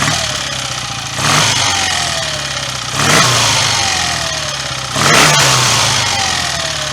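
A warmed-up BSA A65 motorcycle twin with a freshly rebuilt top end and new piston rings runs loudly up close, settling at a steady idle between three blips of the throttle.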